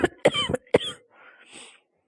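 A man has a severe coughing fit: four harsh, close coughs in quick, uneven succession, then a few rough, breathy wheezes that trail off into quiet.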